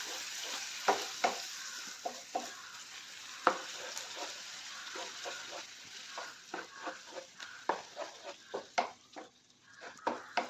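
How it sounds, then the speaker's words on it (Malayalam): Ivy gourd kichadi mixture stirred in a pan, a steady hiss with repeated scraping strokes of a spoon against the pan in an uneven rhythm, close and fairly quiet, no voices. "എല്ലാം കൂടി നല്ലപോലെ മിക്സ് ചെയ്ത് കൊടുക്കണം"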